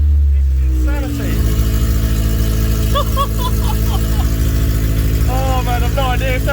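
An EK Honda Civic with a K-series engine swap runs at its first start, holding a steady, loud, low idle rumble throughout while people talk excitedly over it.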